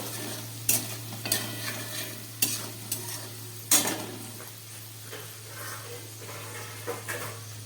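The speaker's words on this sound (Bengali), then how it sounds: "জিরে টমেটো খুব ভালো করে ভেজে নিলাম" Cumin and chopped tomato fry in a pan beside a pot of boiling rice, a quiet continuous sizzle under a low steady hum, punctuated by irregular clinks and scrapes of a spatula stirring against the metal; no talking.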